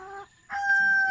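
Rhode Island Red chickens on a free-range farm give a couple of brief, close, tonal calls, with a short quiet gap between them and a faint background hum.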